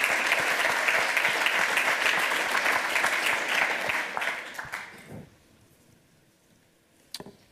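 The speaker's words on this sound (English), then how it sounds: "give him a huge round of applause for finishing it on time" An audience at a hacker conference lightning talk session applauds steadily for about five seconds, then the clapping thins out and fades to near quiet, with a couple of brief knocks near the end.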